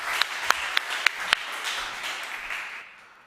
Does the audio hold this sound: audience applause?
yes